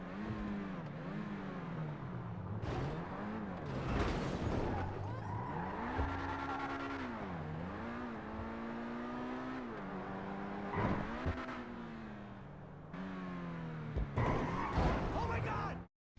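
A sports car in GTA V revs and accelerates hard through repeated gear changes, its engine pitch climbing and dropping in steady waves for about sixteen seconds, with tire squeal and skidding mixed in.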